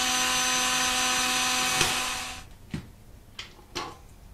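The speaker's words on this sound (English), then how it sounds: "So we'll just remove the screw." A power drill whirs steadily for about two seconds while backing screws out of a pool multiport valve, then stops, followed by a few light metallic clicks and taps of handling.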